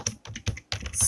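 Typing Java code on a computer keyboard, a quick burst of clustered key clicks in short irregular runs with brief pauses, close and fairly faint, no voice.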